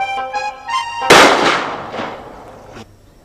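A double-barrel gun fires a single loud, sharp blast that rings out and fades over about two seconds, following a brief tonal passage.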